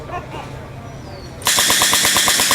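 A machine gun fires at a WWII reenactment, a rapid steady burst of about a dozen loud close shots kicking in abruptly after muffled crowd chatter and speech.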